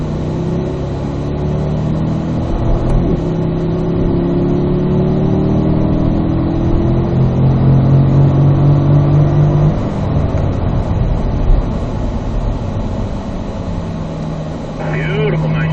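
A Corvette engine revs and accelerates on a race track, loud and close from inside the car, pitch rising and dropping through gear changes, with a voice talking over it.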